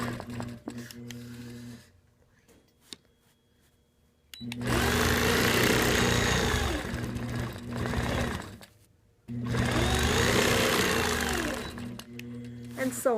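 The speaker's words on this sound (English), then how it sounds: "Now I'm going to stitch up the ditch." A sewing machine stitches in the ditch on a quilt, running in two loud, steady bursts of whirring needle strokes separated by pauses, with faint quiet stretches before.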